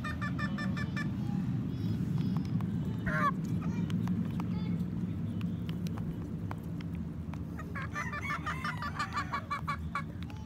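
Free-range chicks feed outdoors, with steady close bird chatter and clucking over a busy, noisy background and bursts of louder calls now and then.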